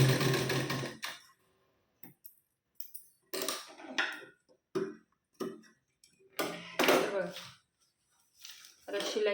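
Short bursts of a home sewing machine double-stitching the cup section of a katori blouse, quick mechanical rattling runs separated by silent pauses, close and clear.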